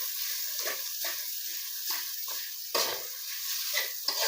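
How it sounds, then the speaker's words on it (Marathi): Potato kachori filling is stirred in a hot pan, with repeated scraping strokes of a spoon over a continuous light sizzle, close and clear with no talking. "बघा मी सगळं असं मिक्स करून घ्यायचं"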